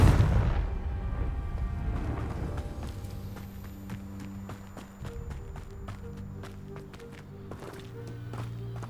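Confringo explosion spell blasts from Hogwarts Legacy, opening with a heavy boom that decays into scattered impacts, footsteps and sharp game effects, with tonal magical chimes ringing out later and no speech.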